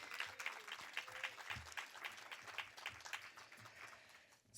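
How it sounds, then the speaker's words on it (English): Audience applause at a university Q&A event on multiracial student activism at UCLA, a steady wash of many hands clapping that holds fairly even for several seconds before tapering slightly at the end. "Let's give everyone a round of applause."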